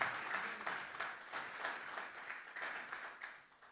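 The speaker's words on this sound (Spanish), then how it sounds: "Y yo quiero que le des un aplauso a Dios porque esta iniciativa es única." A church congregation applauds at a sermon, a moderate wash of clapping with swelling bursts, heard at a slight distance and fading toward the end.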